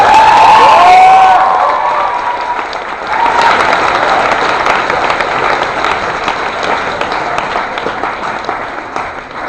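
An audience at a Yale Master's Tea with comedian Demetri Martin breaks into loud applause with cheers and whoops, starting strong and then settling into sustained clapping.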